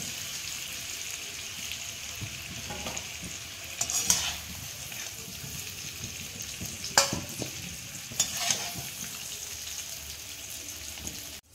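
Papaya pieces frying in oil in a pan for a vegetarian Bengali papaya dalna give a steady bright sizzle, with a few louder crackles and stirring scrapes near 4, 7 and 8 seconds.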